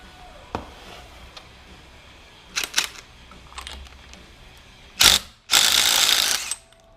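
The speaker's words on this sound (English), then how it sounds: "just use an impact socket on this nut and hold this pulley with your hand" An impact socket on an alternator pulley nut gives a few short ratcheting clicks, then a loud burst of rapid impact hammering and a sustained harsh buzz of fast mechanical rattling, with no talk.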